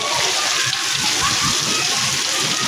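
Heavy rain hisses steadily, with water splashing and sloshing close by on a flooded rooftop under a dense, constant wash of sound.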